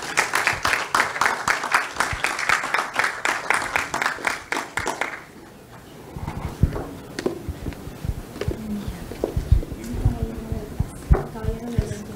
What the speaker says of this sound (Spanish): invitamos con un fuerte aplauso al ingeniero Henry Luna acá adelante